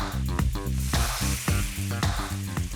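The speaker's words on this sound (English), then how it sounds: "You hear that sizzle?" Panko-breaded patties hiss and crackle as they fry in hot oil in a skillet, a loud, close, continuous sizzle with bursts of sharper popping.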